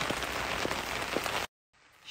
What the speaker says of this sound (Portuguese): Chuva agora lascou